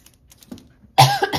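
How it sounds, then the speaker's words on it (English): A single sharp cough, close and loud, bursts out after a stretch of near silence broken only by faint clicks and a brief murmur. "I had to cough."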